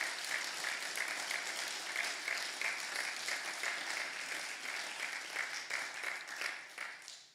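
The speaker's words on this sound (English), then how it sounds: "I want to give Jakob a massive round of applause for all of his hard efforts" An audience at an evening celebration in Leicestershire claps steadily for several seconds, a thick, even wash of hand claps that tapers off at the end.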